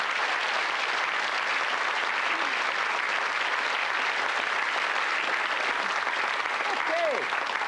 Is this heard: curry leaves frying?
no